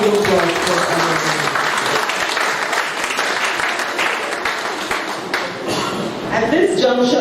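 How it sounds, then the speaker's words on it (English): An auditorium audience at a symposium launch applauds the minister, with sustained dense clapping throughout and faint voices near the end. "We applaud you"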